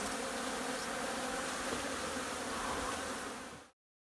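Bees buzz in a large wild hive three feet long that has not yet swarmed, a dense, continuous droning hum close by that cuts off abruptly.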